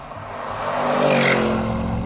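A 2025 Bentley Bentayga Speed's Akrapovic exhaust revs up, its engine note swelling and rising steadily to a peak before easing slightly, heard from within the insulated cabin.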